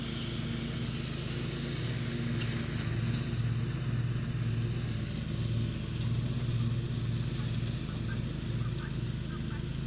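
Riding lawn mower engine running steadily as it drives across a rural off-grid property, a continuous low rumble held at a constant level throughout.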